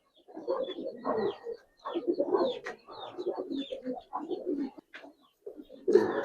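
Madira pankhi pigeons coo in a string of repeated low rounded phrases, near and fairly loud, with short pauses between bouts and a louder burst at the end.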